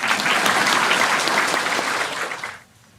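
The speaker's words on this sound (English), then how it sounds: "I'm just saying I'm good and then you clap." Audience applause at a Buddhist sutra lecture, a dense, steady wash of many hands clapping close and loud for about two and a half seconds before cutting off abruptly into near silence.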